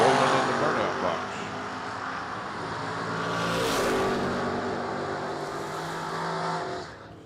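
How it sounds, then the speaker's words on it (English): Corvette drag car at a drag strip, rolling into the burnout box for a burnout, its loud engine roaring steadily with a couple of swells in revs, a commentator talking over it throughout. "they apparently got the Corvette fixed. It's rolling in the burnout box."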